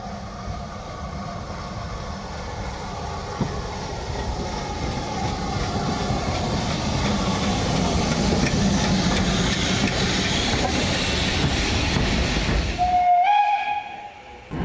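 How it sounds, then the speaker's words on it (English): A Stanier Mogul steam locomotive rumbles and hisses as it draws steadily nearer into Arley station on the Severn Valley Railway, growing louder, then a sharp steam whistle blows near the end. "We hear the distant whistle, and Stanier Mogul number 2968 rounds the bend into Arley."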